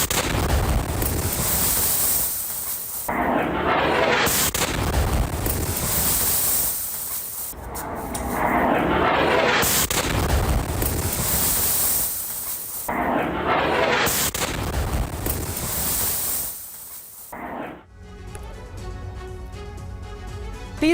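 Explosions from a Russian missile attack on Dnipro, Ukraine, come as several long, loud, rumbling bursts with roaring debris noise, separated by short breaks, before the sound turns to a quieter tonal bed.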